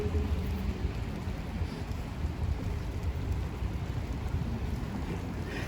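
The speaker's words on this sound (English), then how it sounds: "it's starting to rain harder" Steady rain falling outdoors at an open-air rally, a continuous broadband hiss with low rumbling, no speech on top.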